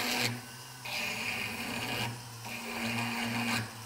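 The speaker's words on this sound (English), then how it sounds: "mount the brass rod in here. And we're going to treat it exactly like a lathe. So I'm going to begin just with a file." A hand file shapes a brass rod spinning in a flex shaft used like a lathe, with a faint whirring motor and soft rasping passes that come and go in a few repeated strokes.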